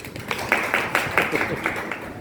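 Audience applause at an award ceremony for talented students, with uneven bursts of clapping rising and falling, fairly close, while someone talks over it.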